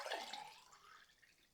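Liquid poured into a mug, a short splashing, trickling stream that starts bright and close and tapers off over about a second and a half, with no voices.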